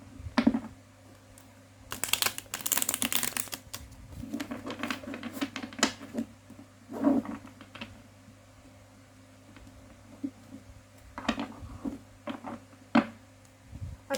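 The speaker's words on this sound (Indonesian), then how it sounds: "di sini aku akan coba shuffle kartunya untuk kamu." Tarot cards are shuffled by hand in quick bursts of fluttering, riffling patter with pauses between, close and fairly crisp, and no talking.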